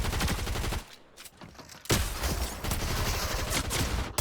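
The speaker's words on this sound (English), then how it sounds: "I tried to get him with the SMG" Rapid SMG gunfire in Fortnite, loud dense bursts of shots that stop briefly for about a second and then resume in a continuous stream.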